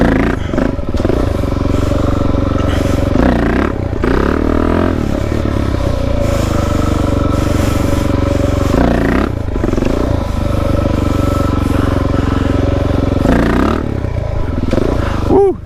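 Suzuki DRZ dirt bike revving hard in first gear through repeated wheelies on a trail, engine loud and close with rising and falling throttle bursts, clattering and scraping mixed in throughout.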